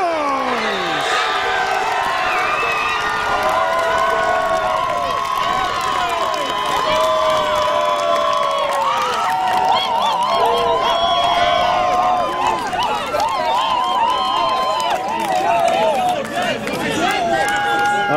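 A home crowd at a campus lacrosse game roars and cheers after a goal, loud and sustained with whoops and shouting throughout, over an announcer's voice and scattered bursts of noise.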